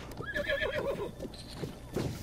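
A horse in Zelda Breath of the Wild neighs in a clear whinny, followed by a second shorter call, mid-loud with faint game ambience beneath.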